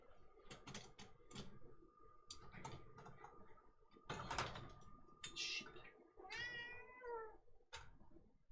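A cat meows several times at close range, short calls spaced irregularly, with faint mechanical ticking and small clicks in the background.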